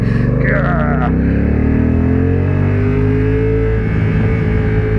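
A Honda NT1100 adventure motorcycle in sport mode accelerates hard past hay bales, its engine note climbing steadily through a long-held gear, loud and close, with a short gearshift near the start.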